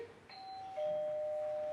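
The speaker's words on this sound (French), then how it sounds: "On sonne." Doorbell rings during a French stage play, two-tone electronic chime sounding once and sustaining its second note over a quiet room, with no speech.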